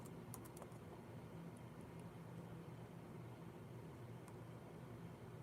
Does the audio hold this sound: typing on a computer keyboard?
yes